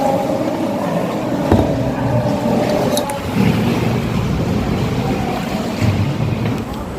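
Choppy, oversized ocean waves wash around a kayak near a sea cave in the Channel Islands, heard as a steady broadband rush with gusting wind buffeting the microphone throughout and a few heavier surges.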